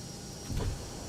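Landing gear on a ToLiss A319 in the X-Plane 12 flight simulator extends with a low mechanical rumble and whir that swells halfway through, set against a constant cockpit hum.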